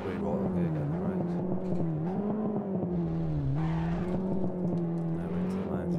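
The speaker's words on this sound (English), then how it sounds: "So it is a drift car, so I'm trying to have it round bends." Drift car in the racing game Assetto Corsa, its engine droning steadily with a wavering pitch as it rounds bends, tire noise blended into a continuous loud, close roar with no pauses.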